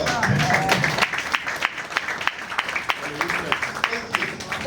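An audience clapping and applauding in a hall, scattered sharp claps forming a loose ongoing applause over crowd murmur.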